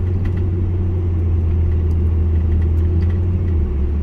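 A car cruises along a straight, highway-like road through the Costa Rican rainforest, its engine and tyres making a steady, loud, low rumble that carries on unbroken throughout.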